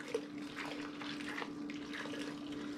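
Soft, steady sloshing and trickling of soapy dish water while a kitchen stove front is wiped down, faint and continuous with no voices.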